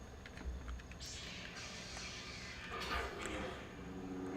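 Quiet, steady clatter of typing on a computer keyboard, soft keystrokes running continuously under a low background hiss.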